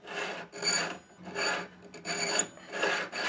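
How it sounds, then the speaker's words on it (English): Metal file dressing the treble-side guitar frets under the strings, five or six distinct back-and-forth rasping strokes, close and clear with short pauses between, no talk. "we're just spot dressing those treble spots"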